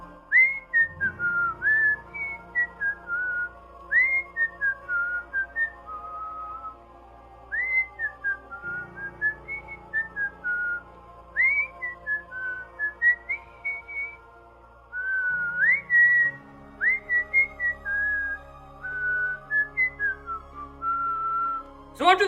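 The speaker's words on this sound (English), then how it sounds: "when you whistle the 4-note tune in Panem" Someone whistles a short four-note tune several times over, clear and close, with brief pauses between phrases.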